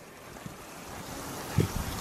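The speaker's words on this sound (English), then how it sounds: "open up the valve. Get some water going in there." Water flows from a garden hose through an opened valve into a rinse machine's pump unit, a steady, fairly faint rushing hiss throughout, with a couple of brief low thumps near the end.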